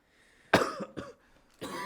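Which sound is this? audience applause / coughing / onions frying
coughing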